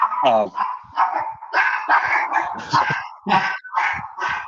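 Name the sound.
dog barking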